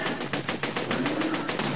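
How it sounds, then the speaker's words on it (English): Rapid automatic gunfire from a weapon in the video game Borderlands 2, a steady burst of evenly spaced shots firing about eight times a second, fairly loud and continuous with no talk. "that gun has way too much recoil"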